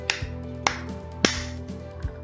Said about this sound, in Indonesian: Kalau ketukan yang lemah seperti ini.